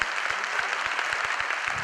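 Applause from an audience at a Modicare business opportunity meeting: an even, moderately loud patter of many hands clapping, with a few sharper low thuds scattered through the brief burst.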